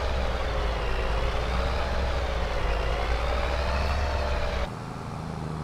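A Lamborghini tractor driving down a Tuscan road in Farming Simulator 22, a steady low diesel engine drone with a wavering mid-range hum, close and continuous, dropping abruptly near the end.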